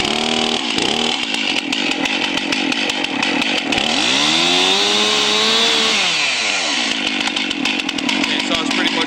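A chainsaw engine fires up and runs loudly close by, its pitch rising and falling as the throttle is revved before settling into a steady drone.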